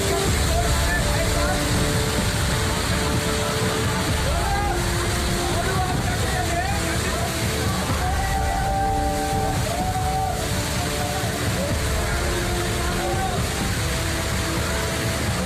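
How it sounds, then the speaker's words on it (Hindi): Kempty Falls near Mussoorie in flood after heavy rain, a loud continuous roar of rushing water filling the scene, with people talking and calling out over it. "मसूरी के केम्प्टी फॉल का ये रौद्र रूप"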